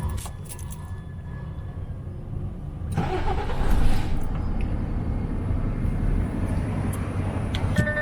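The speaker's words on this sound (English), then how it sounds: "Start the truck." A truck engine cranks and fires up about midway, jumping from quiet background to a loud, steady idle rumble with a slight rev that then settles.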